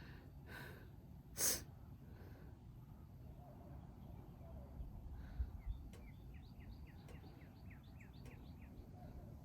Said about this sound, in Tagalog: Lakas ng huni ibon.